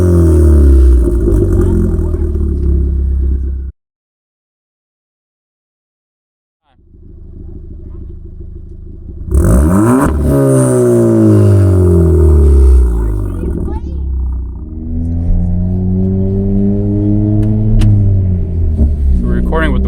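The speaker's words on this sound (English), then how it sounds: "Okay, rev it up." Close, loud engine revving from a 2014 Ford Fiesta ST with a big turbo and CP-E exhaust, deep harmonic rumble rising and falling in repeated blips after a brief silent gap, with people talking over it.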